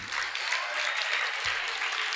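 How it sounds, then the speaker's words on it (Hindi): An audience at a religious discourse on the Samadhimaran Path claps for themselves, a dense, steady wash of applause holding at even loudness throughout. "अब तालियां बजा दो अपने लिए"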